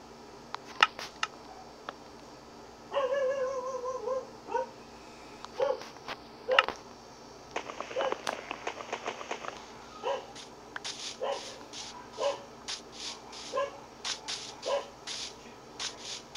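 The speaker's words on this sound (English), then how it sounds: "the dog is noisy" Dog in a survival video game barking in short bursts and letting out whimpers, a string of sharp yaps repeating over several seconds against quiet game ambience, with no talking.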